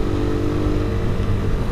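A 2014 Suzuki Satria FU with its DOHC engine revs steadily nearby, giving a continuous, loud buzzing drone that stays level for the whole short stretch with no voices over it.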